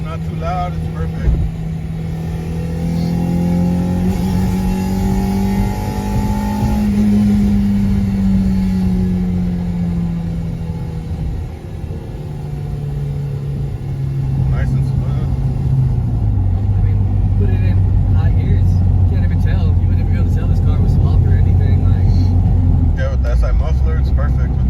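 A Honda Civic sedan with a swapped B18C1 engine and a 2.5-inch J-Fabs aftermarket exhaust idles with a steady low exhaust drone, rising in pitch once then settling, while people talk nearby throughout.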